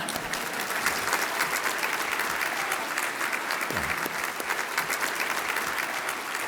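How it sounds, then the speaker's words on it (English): A conference audience at a St. Louis business investment event breaks into sustained applause, a dense, even wash of clapping that holds steady at full strength throughout with no talk over it. "we can clap a little louder than that"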